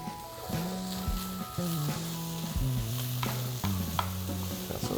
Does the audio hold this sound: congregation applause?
no